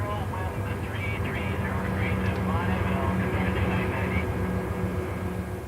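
A voice imitates an airplane engine with a sustained droning hum, steady and fairly loud throughout, a low engine-like roar with some higher whine on top.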